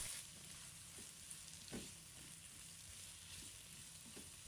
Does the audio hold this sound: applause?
no